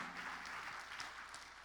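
A church congregation claps steadily during a worship service, a dense, even patter of many hands that continues without pause and without voices.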